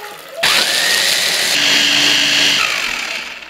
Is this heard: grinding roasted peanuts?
yes